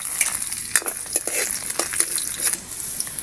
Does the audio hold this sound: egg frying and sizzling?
yes